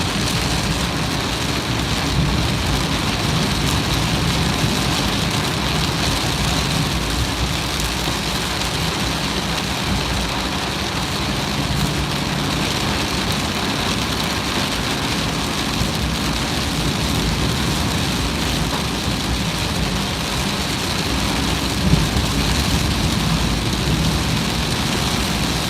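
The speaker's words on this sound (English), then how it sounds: "But it is raining cats and dogs." Heavy rain pours down in Japan, a dense, continuous hiss and patter of drops that stays loud and unbroken throughout, with a faint low rumble beneath.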